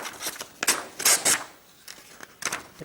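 Several crisp cutting strokes as an Opinel No 9 carbon steel knife slices through paper: close, bright swishes and rasps in separated bursts, a couple of them louder, with quiet gaps between.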